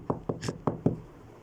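Five quick knocks on a door land in an even rhythm, sharp and fairly close, with a short pause after them.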